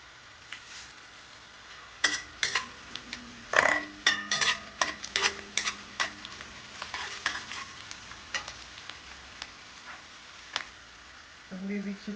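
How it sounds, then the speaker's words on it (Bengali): Panch phoron five-spice seeds dropped into hot oil in a cooking pan, crackling and popping in quick sizzling bursts with scattered ticks, fairly close, with a voice speaking nearby. "এখন দিচ্ছি পাঁচফোড়ন"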